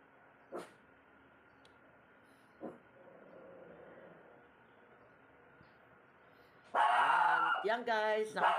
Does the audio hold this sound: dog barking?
yes